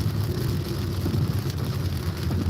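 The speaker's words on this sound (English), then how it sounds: "Yeah, this rain is coming down." Rain pours down outside a moving car on a partly flooded road, heard from inside as a steady, dense hiss and rumble mixed with low road noise.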